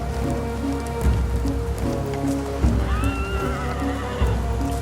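A horse neighs loudly, a rising whinny in the middle, while steady rain patters on a surface and occasional hoof thuds sound nearby. No voices are heard.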